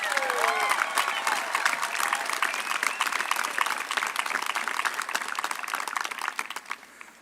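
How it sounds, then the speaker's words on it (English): At a university commencement ceremony, a large crowd applauds the faculty and staff with dense clapping and a few whistles and cheers, holding steady for several seconds before thinning out. "How about a round of applause for all of Jacksonville University's fantastic faculty and staff?"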